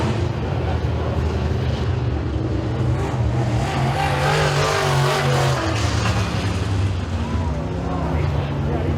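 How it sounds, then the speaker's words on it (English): Race cars in a heat at Eriez Speedway roar past down the front stretch, a loud, dense engine drone that swells and holds throughout, with crowd and track ambience mixed in. "Drag race down the front stretch."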